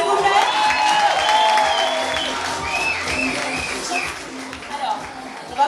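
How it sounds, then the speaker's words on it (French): Audience at a Miss East Africa pageant night applauding the ten finalists in traditional dress, a dense, sustained wash of clapping that slowly thins out, with some shuffling beneath it. "On les applaudit bien fort, s'il vous plaît."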